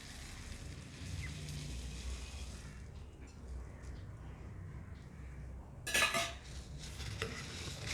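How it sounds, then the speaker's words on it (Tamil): Dry puffed rice for masala pori rustles and scrapes as it's stirred in a bowl, with a short louder clatter of a spoon against the side near the end. "நல்லா கலந்துக்கோங்க."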